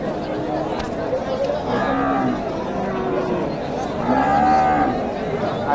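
A large Friesian bull at a cattle farm moos loudly and close by in two drawn-out calls a couple of seconds apart, with faint murmuring voices in the background.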